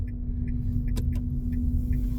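Inside a car while driving, a steady low engine and road rumble fills the cabin, with a couple of soft ticks and faint, high, short chirps scattered over it.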